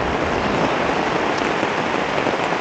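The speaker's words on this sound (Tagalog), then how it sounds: "Lakas ng ulan" A loud, constant downpour with wind during a storm hisses and drums without pause, thick and close, with nobody speaking.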